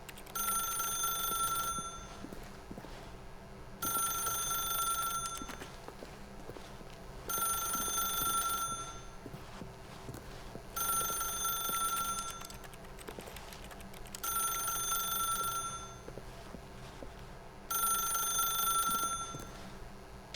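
A telephone rings in The Stanley Parable game, a bright electronic bell repeating in regular bursts about every three seconds over quiet room tone, with no voices.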